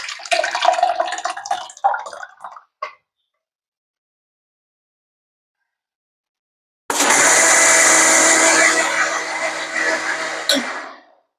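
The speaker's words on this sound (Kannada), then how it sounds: "ಆರಿದ ನಂತರ ನಾವ್ ಮಿಕ್ಸಿದ ಹಾಕಿ ಒಂದ್ ಸ್ವಲ್ಪ ಗ್ರೈಂಡ್ ಮಾಡ್ಕೋಬೇಕು." Kitchen mixer grinder blending a cooled milk mixture for kulfi, a loud steady motor whir with rattling from the jar for about four seconds before cutting off, after a short clattering handling noise and a silent pause.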